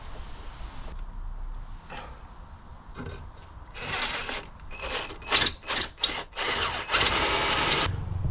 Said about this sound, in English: then I can drill upwards